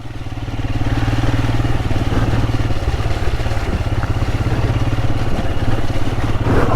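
A Royal Enfield Himalayan motorcycle rides a muddy, slippery green lane track, its single-cylinder engine thumping steadily and loud close by with a rapid even pulse, some clatter and no talk.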